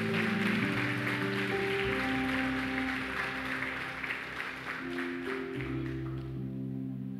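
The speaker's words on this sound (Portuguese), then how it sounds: "Quantos podem aplaudir?" A church congregation applauds together in a sustained wash of clapping, steady and fairly loud, blended with lingering tones of music or organ beneath.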